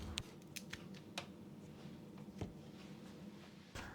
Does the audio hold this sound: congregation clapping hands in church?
no